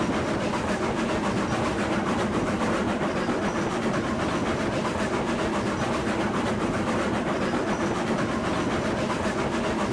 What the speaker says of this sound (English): So if you can't hear me over the train, just let me know.